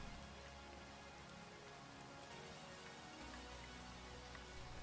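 Steady rain hisses over everything in the Space Engineers video game, a dense, even wash of drops across the full stretch with a low rumbling bed underneath and no talk.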